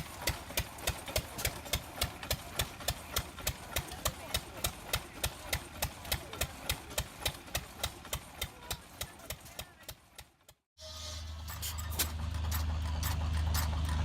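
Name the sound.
Baker Monitor VJ vertical hit-and-miss gas engine running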